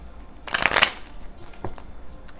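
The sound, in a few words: sideways shuffle of tarot cards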